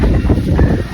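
Strong, cold wind blows at Tagaytay, buffeting the microphone with a continuous low, gusting rumble. No talk is heard, only the roar of the air.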